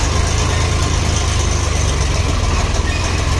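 A tractor hauling a loaded tipper trailer idles at a sugar mill weighbridge in Viluppuram, a loud, steady low diesel rumble close by with an even throb and no voices.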